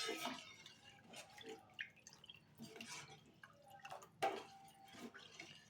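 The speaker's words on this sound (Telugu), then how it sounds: "అందుకని వాటర్ మరిన్నే పోసుకోవాలి." Water is poured into Bombay chutney in a home kitchen, coming as faint, quiet splashes and drips in short separate bursts with no talking.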